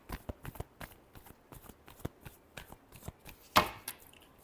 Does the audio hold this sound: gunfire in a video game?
no